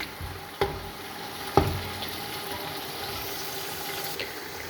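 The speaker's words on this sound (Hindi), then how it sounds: "मसाला हो चुका है अच्छी तरीके से फ्राई" Masala fries in a pan for chicken and vegetable fried rice, a soft, fairly quiet continuous sizzle broken by two sharp utensil knocks and a faint scrape toward the end.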